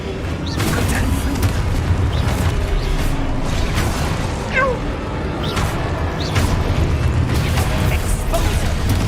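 Spell combat in the video game Hogwarts Legacy, with blasts, bursts and crackling magic impacts piling up in dense, loud game audio. A voice is heard over it at times.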